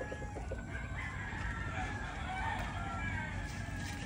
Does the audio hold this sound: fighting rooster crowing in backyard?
yes